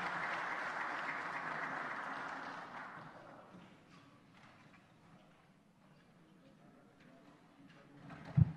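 An audience at an official ceremony applauds warmly, steady clapping that fades out after a few seconds and leaves a quiet hall with scattered taps and a sharp thump at the end.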